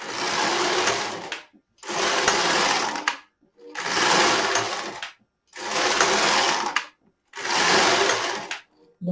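An LK 150 knitting machine carriage is pushed back and forth across the needle bed, five loud whooshing, rattling passes, each about a second and a half long, separated by brief pauses.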